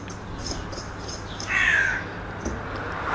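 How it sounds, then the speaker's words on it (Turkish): A bird calls outside on a sunny day, a single faint crow-like caw in the middle of quiet ambient background. "Güneşli, kuşlar ötüyor."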